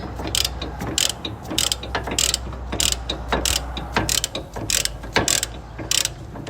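A hand ratchet with an 18 mm deep well socket loosens a caliper bolt on a 2018 Chevy Malibu during brake work, giving rapid, close clicking bursts in a steady back-and-forth rhythm, about two strokes per second.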